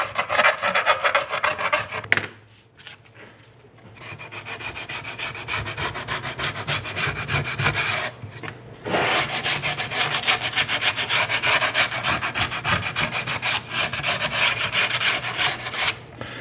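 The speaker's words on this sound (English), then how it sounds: "I'm using a real small hand file. Just lightly going over the edge of the cut." Small hand file drawn lightly along the cut edge of a metal computer case top panel, a steady close rasping scrape in long continuous strokes with two brief pauses.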